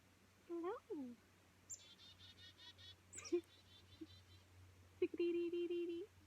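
A chickadee calls at close range outdoors, giving several short whistled and buzzy notes in separate bursts. A faint voice speaks softly in the background.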